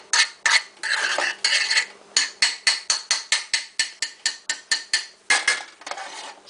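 A metal spoon scrapes and clinks steadily against a pot while butter is mixed into couscous, a quick run of sharp, evenly spaced strokes close by with no talking.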